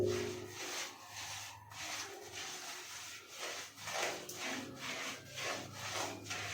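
A brush sweeps a waterproof coating onto a water tank during a leak repair, making soft rhythmic rubbing strokes that repeat steadily up close.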